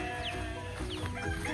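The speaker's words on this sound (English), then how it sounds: "Our neighbors have tons of chickens and they always come over" Chickens cluck and crow in steady, close bursts from a flock of neighbors' backyard fowl, with no voices in the evening air.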